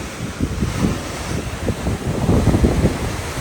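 Steady, gusty wind buffets the microphone on the open deck of a cruise ship at sea, a continuous low rumble with no voices.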